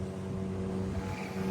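Boat engine on a sea crossing, a steady low droning hum with constant rushing noise, fairly quiet and unbroken, no talk.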